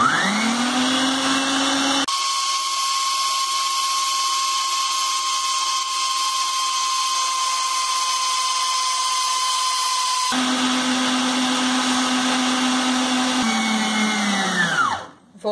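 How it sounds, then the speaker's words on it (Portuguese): An electric stand mixer beats sugar for cake batter, a loud steady whine that shifts pitch as the speed changes and winds down at the end. "Vou desligar, não vou usar mais a batedeira."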